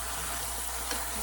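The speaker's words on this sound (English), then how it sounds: "I'm going to run a little more water over that" Tap water running over shredded cabbage and vegetables in a colander, a steady hissing splash at moderate level, brief and continuous with a slight rise near the end.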